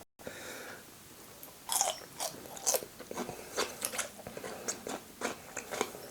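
Crisp green beans cooked in oyster sauce with king prawns are bitten and chewed close up, a run of sharp irregular crunches over quiet background with no talking.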